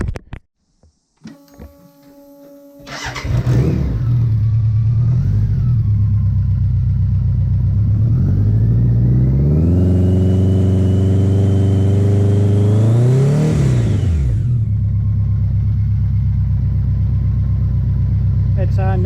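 A BMW K100 cafe racer engine starts up and settles into a steady, loud idle with the exhaust baffle fitted, then revs up in a sustained rise and drops back down before idling on.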